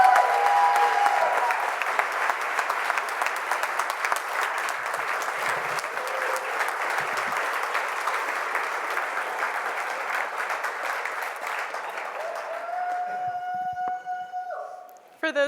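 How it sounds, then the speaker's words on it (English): Loud, sustained gala audience applause for John Sweeney at an ALS Hope Foundation event, a dense wash of many clapping hands with faint cheers, tapering near the end as a few tones and voices emerge. "Can we have another round of applause for John Sweeney?"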